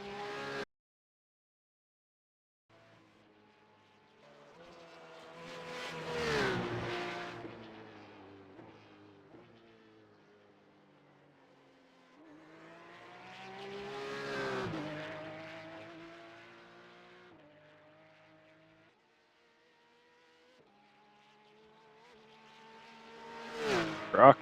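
Porsche 911 GT3 Cup race car in the iRacing game, its engine swelling through several long revving passes with gear changes and faint tire noise, loud at each peak and fading between.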